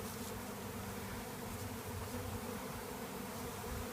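A honey bee swarm congregating on the corner of a fence outdoors hums in a dense, steady, continuous buzz of many bees, fairly close and unbroken with no voices.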